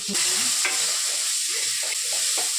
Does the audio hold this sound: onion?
yes